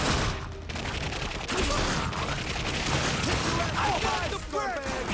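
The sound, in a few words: gunfire in the video game The Darkness 2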